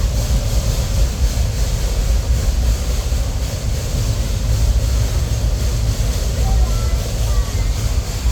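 A train rides along the railroad with a steady, dense rumble and rattle of wheels on track, loud and continuous throughout without a break.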